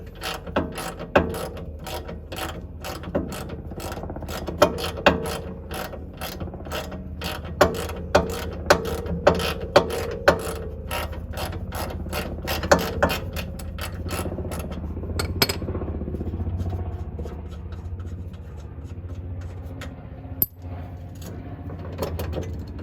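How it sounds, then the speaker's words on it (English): A ratchet threads a nut off a rear shock bolt on a 2005 Mercedes C230 Kompressor W203, with rapid close metallic clicking in bursts, then quieter handling of parts and a single sharp knock near the end. "we're just using the Torx on this side to keep the bolt captivated while we thread off the nut"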